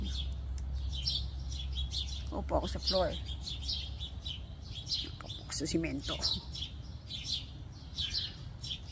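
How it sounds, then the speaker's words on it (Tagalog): Birds chirp and tweet repeatedly in the background throughout, a busy morning chorus, while a person talks nearby over a low hum. "Ingay ng mga ibon, ano?"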